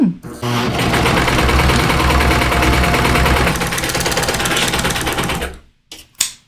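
A serger stitches a rolled hem in a steady, fast mechanical chatter, loud and close, running for about five seconds before stopping, followed by a couple of brief clicks.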